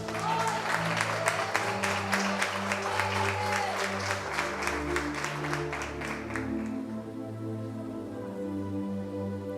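A church congregation claps for Jesus during a sermon on sound doctrine for Christian women, steady applause filling the room for several seconds before thinning out, with a voice talking over it.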